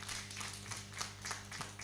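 An audience claps in rhythmic bursts, several hands hitting together in a quick repeating pattern at moderate distance, fairly soft overall.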